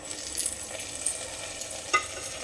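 Chopped tomato gets stirred into sautéed onions in a pan for a leftover-roti snack, giving soft scraping and a quiet sizzle with a couple of light clinks.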